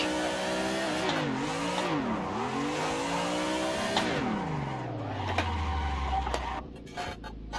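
In a driving simulator game, a car's engine revs and swoops up and down in pitch through a drift, with tire squeal and skidding, then winds down to a low drone near the end; no talking.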